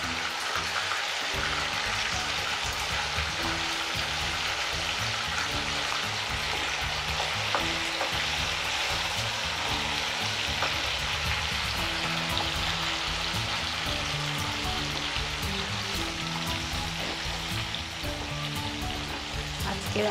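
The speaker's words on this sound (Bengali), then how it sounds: "আমি চিকেনের পিস একটা একটা করে দিয়ে ভালো করে ফ্রাই করে নেব" Chicken pieces frying in hot oil make a loud, dense, unbroken sizzle and crackle that runs steadily throughout, with a faint low tonal hum underneath and no voices.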